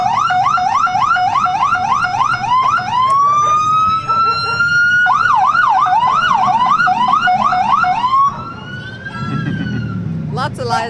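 Loud police sirens blare close by at a July 4th parade, cycling through rapid yelping wails and long rising-falling tones, with several sirens overlapping and voices faintly underneath.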